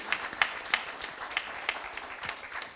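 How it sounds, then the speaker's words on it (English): An audience at a regional logistics expo panel session gives a round of applause, with sparse individual claps popping out over a soft, steady patter. "a huge round of applause,"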